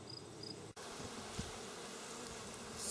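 Honey bees buzz in a steady, close swarm at a hive just treated with Apistan varroa mite strips, reacting to the strong odor with one brief knock partway through.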